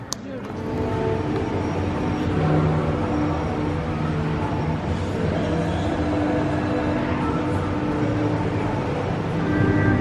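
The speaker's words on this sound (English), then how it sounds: "it's nice to be able to see out the windows on this monorail" A steady rumbling hum of a monorail train in motion at Europa Park, heard from inside, constant and close, with people talking over it.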